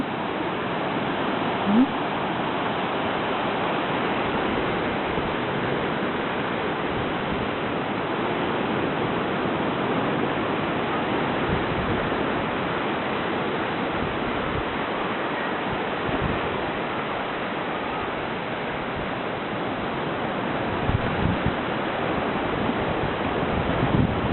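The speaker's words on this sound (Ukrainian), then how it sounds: "Тепленько, 24 градуси тепла, красота, море шумить, подивіться, як гарно." Sea surf rushing continuously on a warm day, a steady broad wash of waves close by with gusty wind noise on the microphone, no voices.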